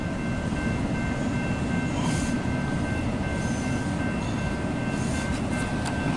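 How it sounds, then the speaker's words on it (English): A CSX freight train of empty ethanol cars, led by SD70M-2 and SD75I locomotives, rumbles past steadily and loudly, a continuous low roar with faint metallic squeals and clatter above it. "It's him. It's a K train."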